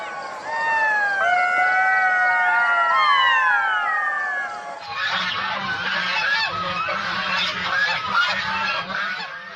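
A cartoon flock of ducks quacks and honks loudly and continuously. Many overlapping calls rise and fall close by, then shift to a denser chatter.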